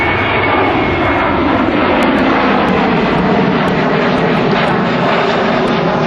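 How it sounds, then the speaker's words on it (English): A steady, loud roar of an airplane engine during takeoff near a showjumping club, continuous and close, with no voices. "there are the planes taking off I was talking about earlier"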